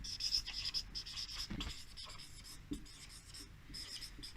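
A pen or marker writing out a heading during a physics lesson on units and measurement gives soft continuous scratching in short strokes with brief pauses, close and quiet, with no speech over it.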